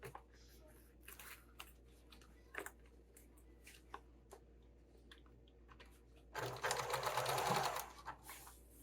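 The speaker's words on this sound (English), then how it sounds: "because I'm binding this, I can sew all the way around this pocket" Sewing machine stitching around the pocket of a bound sling bag, a quiet run of scattered stitches followed by a louder, steady burst of fast sewing near the end, with no voices.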